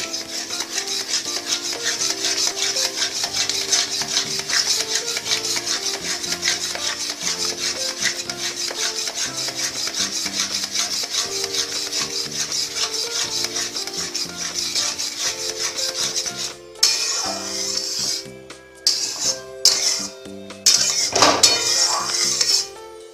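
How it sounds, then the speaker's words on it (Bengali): Scrambled egg stirred in a pan for a tadka dish, a steady run of scraping and clinking of utensil against metal with a tonal background underneath, turning sparser and more broken near the end. "ডিমটাকে ভালো করে নেড়ে নেবেন, তাহলেই ডিমটা কুচো কুচো মতো হয়ে যাবে"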